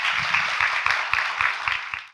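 Studio audience applause at a Korean talk show, a steady burst of clapping lasting about two seconds and fading out at the end, with no voices over it.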